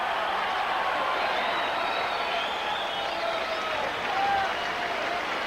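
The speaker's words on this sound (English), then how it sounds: "Crowd showing its appreciation here at the Las Vegas Hilton." A boxing crowd at the Las Vegas Hilton applauds and cheers after a round between Julio Cesar Chavez and Tony Martin, a dense, steady roar of clapping and voices from a large arena audience.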